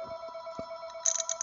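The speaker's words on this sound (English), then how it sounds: "Sorry about the phone, guys." Brief electronic telephone ring cutting in over a quiet workshop, a steady tone with a short burst of higher trilling near the end.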